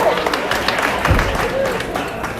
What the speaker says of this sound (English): So give him some applause.